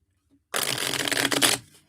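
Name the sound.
shuffling a deck of reading cards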